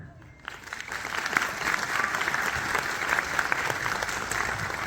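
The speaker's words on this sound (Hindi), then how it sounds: "आपकी तालियां बताएंगी कि क्या आप स्कूल के साथ हैं।" An audience of parents at a school gathering breaks into broad, sustained applause that swells after a brief quiet start and then holds at an even, dense level.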